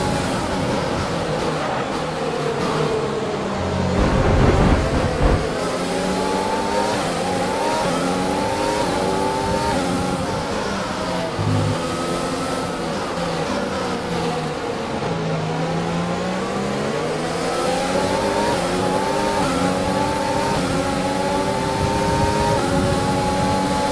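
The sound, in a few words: F1 race car engine accelerating, from video game F1 2020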